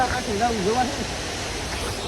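River water rushing steadily during a crossing on foot near a Khodiyar temple at Galdara, Dhari, a broad hiss heard close by, with a voice talking briefly over it near the start.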